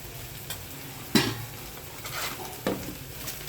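Spices and chana masala stirred in a pan of chickpeas, a steady sizzle with a couple of sharp spoon scrapes against the metal, close and alone.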